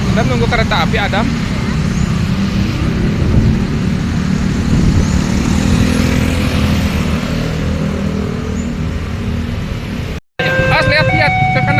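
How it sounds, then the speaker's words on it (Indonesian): Motorcycles and other traffic passing on a road while people wait for a train, a continuous engine rumble heard under talking, with a brief dropout near the end. "Lihat tuh ke kiri ada motor."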